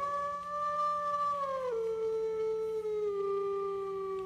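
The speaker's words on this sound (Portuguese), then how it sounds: "Esse uivado dá muito medo, né, galera?" A wolf in the game WolfQuest lets out a single sustained howl that drops in pitch partway through and then holds steady, loud and close over a faint low hum.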